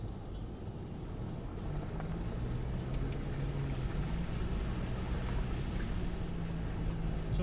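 Steady engine roar from a Mercedes-Benz 4x4 driving over off-road ground: a constant, fairly loud drone with rising throttle and wind or road rush, continuous and without pauses or talk.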